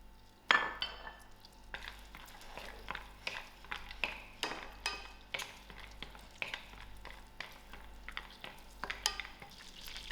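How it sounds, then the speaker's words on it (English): Almonds frying in melted butter in a pan, with light sizzling beneath repeated scraping and stirring clinks of a utensil against the pan, close and steady throughout. "While my butter is melting, I'm going to also add in my almonds for a quick fry"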